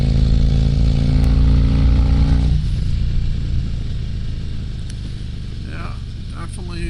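A 2022 Harley-Davidson Street Glide Special with a Stage 2 upgrade rumbles loudly and steadily up close while riding, its deep engine drone easing slightly partway through, with wind noise and a few faint higher sounds.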